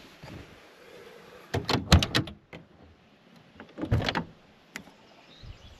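A camper van's door is opened, making two bursts of close mechanical clunks, rattles and a sliding scrape a couple of seconds apart against quiet surroundings.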